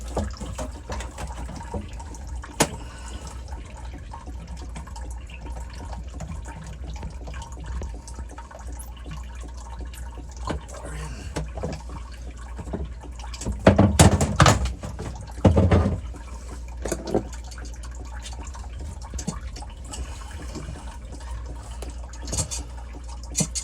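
Cold water running from a tap into a container while working on a Honda Valkyrie expansion tank: a quiet background hum, then a louder gush of running water in the middle before it settles again.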